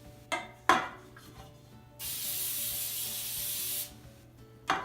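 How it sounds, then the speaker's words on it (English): A continuous hissing spray of baking spray onto a baking sheet lasts almost two seconds, framed by a few clicks and scrapes from handling the can nearby. "I'm just gonna take a little bit of baking spray for our baking sheet"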